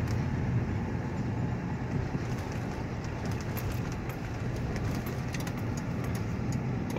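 A 2011 Crown Victoria LX with a manual five-speed swap cruises in fourth gear, its steady engine drone and road rumble continuous and even throughout, with no voices.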